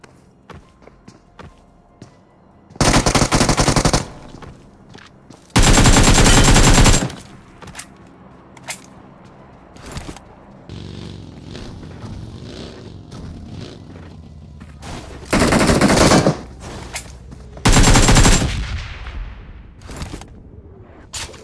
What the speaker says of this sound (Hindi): मुझे एक गन साउंड आती है जो कि भाई साहब बोट फायरिंग करके मुझे ये बंदा बुला रहा होता है